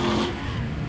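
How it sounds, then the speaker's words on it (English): A racing vehicle at a King of the Mountain event is driven hard at full throttle, its engine holding a loud, steady, raspy roar throughout the short burst with no letup. "Paul Curley on the throttle hard."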